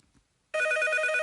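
A telephone starts ringing abruptly after a short quiet stretch, a steady electronic trill on a TV game show, loud and alone.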